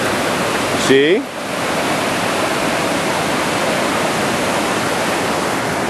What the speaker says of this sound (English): Now let's take a look at the river. You hold Daddy's hand because the river is very powerful.